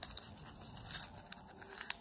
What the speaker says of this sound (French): vous allez rouler le papier comme ceci